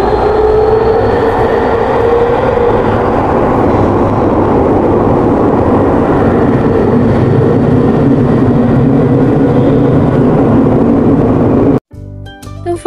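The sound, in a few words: metro rail train arriving at station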